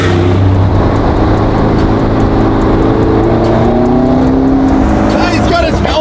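Lamborghini Squadra Corse race car with its engine running loud and close, a dense rumbling drone that swells in pitch, while people talk over it.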